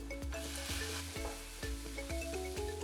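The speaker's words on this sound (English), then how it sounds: "Let me reduce the heat to low, and then I'm adding this chopped tomato" Chopped tomato sizzles in a pan of potato with turmeric and salt over low heat, a steady close frying hiss broken by repeated scraping and clattering stirs of the spoon.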